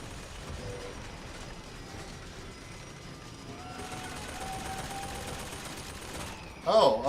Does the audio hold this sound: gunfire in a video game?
yes